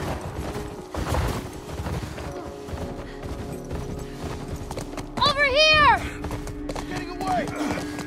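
Horse hoofbeats clatter in The Last of Us Part 1 video game, a steady clip-clop running under busy gameplay noise, shouted voices and a loud whinny midway.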